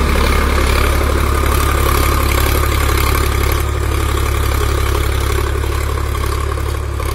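A Sonalika DI 745 HDM 50 horsepower power-steering tractor engine runs steadily and loudly up close, a continuous low diesel rumble with no breaks.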